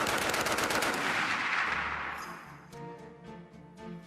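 A Browning Automatic Rifle fires a loud, rapid automatic burst of booming shots that fades into echoing reverberation.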